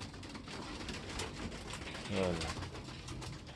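Pigeons coo softly in the background, with one clear low coo standing out midway, while someone talks casually nearby in a quiet setting.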